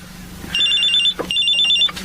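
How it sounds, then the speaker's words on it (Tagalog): A cellphone rings with an incoming call, sounding two bright, repeated electronic ring bursts with a brief gap between them, loud and close, with no talk over it. "Oh, may tumatawag sa cellphone."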